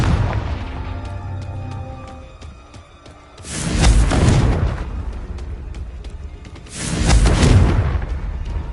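Confringo spell explosions in the video game Hogwarts Legacy go off twice as deep, rumbling booms that swell and fade over a couple of seconds each, against quieter game ambience.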